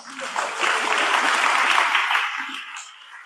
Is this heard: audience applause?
yes